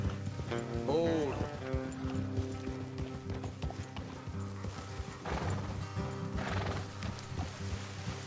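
A horse whinnies briefly over steady clip-clopping hooves, with a low rumbling background and a voice mixed in, in the video game Red Dead Redemption 2.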